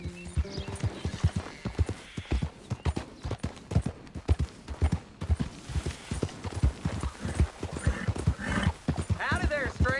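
A horse's hooves clip-clop at a steady walking rhythm on a trail in the video game Red Dead Redemption 2, close and clear, with a brief whinny and voices talking over the hoofbeats.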